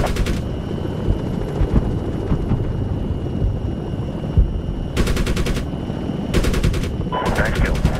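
Apache helicopter cannon fire in Medal of Honor, rapid machine-gun bursts over a constant loud rotor and engine drone, with several distinct volleys toward the end.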